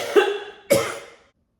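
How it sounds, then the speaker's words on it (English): A person with a cold in the middle of a serious coughing fit, producing two harsh, close coughs about half a second apart, followed by quiet. "I just had a serious coughing fit."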